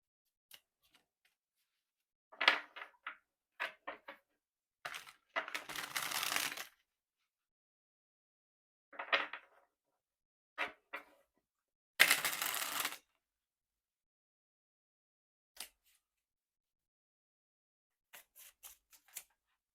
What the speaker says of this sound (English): So we'll get some more oracle cards.